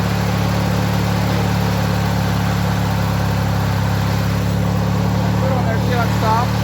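A Montgomery Ward lawn tractor engine runs at low speed, a loud, steady, close-up droning hum that holds unchanged throughout.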